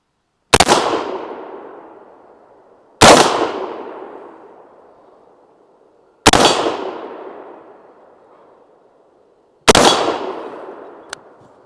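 Four sharp rifle shots from a short-barrel gun firing hot 77 grain ammunition crack outdoors, spaced a few seconds apart, each a loud close blast trailing into a long echoing decay, with no talking.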